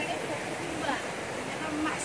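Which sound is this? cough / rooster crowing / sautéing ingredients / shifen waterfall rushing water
shifen waterfall rushing water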